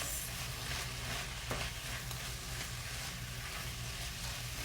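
Onion sizzles in a hot skillet turned up high, a dense constant frying hiss with one soft scrape of stirring near the middle.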